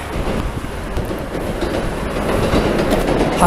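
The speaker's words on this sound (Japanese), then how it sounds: "電車が通りましたね" Loud rumble and rhythmic clatter of a train passing close by on a bridge in Uji, Japan, wheels clacking over the rails with steady roaring noise throughout.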